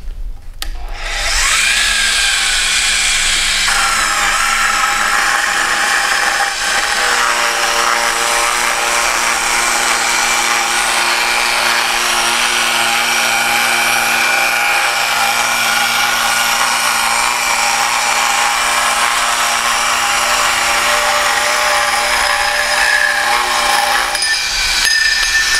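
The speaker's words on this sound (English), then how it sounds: "turn on the motor, engage the blade by lowering this handle, and then begin to rotate the saw around the workpiece" An AXXAIR orbital saw motor starts, then its blade is lowered and rotated around a sanitary stainless tube, giving a loud, steady high-pitched cutting whine with grinding texture that runs unbroken for about twenty-five seconds before spinning down.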